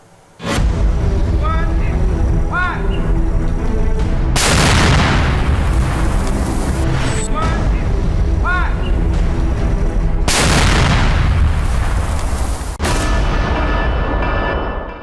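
Several loud, booming blasts ring out at intervals over a continuous roar during a Naxal encounter in Bijapur, with a voice audible underneath in places.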